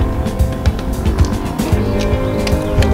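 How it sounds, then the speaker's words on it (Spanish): A motorbike engine drones steadily while herding goats and sheep at an off-grid rural cabin, with a continuous revving hum and some brief sharper sounds. "Tengo un vecino moderno que arría los chivos y las ovejas en moto."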